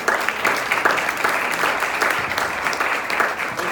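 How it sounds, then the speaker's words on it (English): A room of food program volunteers at a meeting claps together in brisk, sustained applause. The clapping is loud, dense and steady from start to finish. "give a round of applause to thank yourself for helping those clients"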